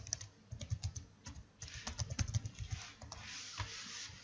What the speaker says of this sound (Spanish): Metemos nuestra contraseña.